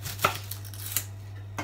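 A knife chops through a large onion in a home kitchen, giving three sparse, fairly faint cuts over a steady low hum.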